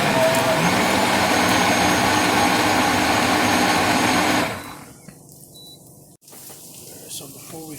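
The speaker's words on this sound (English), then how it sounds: "We're going to go ahead and blend our soup" A kitchen blender whirs steadily, purees potato and leek soup for several seconds, then cuts off abruptly, leaving a quieter room with faint handling sounds.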